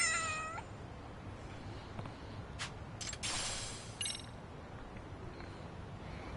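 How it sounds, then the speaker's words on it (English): A cat in the video game Lost Judgment meows in a few clear, fairly close calls, the first drawn out, over faint game ambience with no talking. "You are a good kitty, Mittens."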